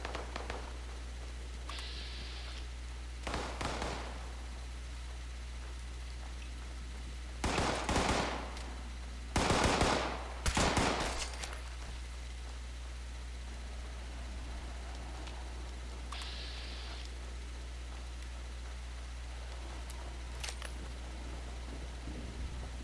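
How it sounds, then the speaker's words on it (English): Gunfire in the video game Fallout 76 aimed at a player's base, heard as several short bursts of shots spread apart over a low steady hum, fairly faint and with no talking. "Are you really shooting at my base?"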